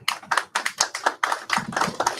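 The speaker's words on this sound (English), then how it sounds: "Oh, your 3 supporters just clap for you." A small group of a few people clapping, brisk uneven handclaps at close range with a steady rhythm, alone without talk.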